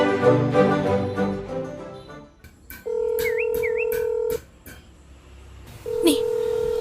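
Cellphone number being dialed in an Ilocano audio drama, heard as a quick series of loud, close electronic keypad tones followed by a steady tone, after a stretch of background music.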